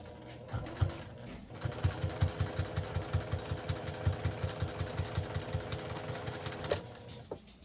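A sewing machine stitches binding onto an unfinished quilt project in a fast, even run of mechanical pulses for about five seconds, then stops with a click.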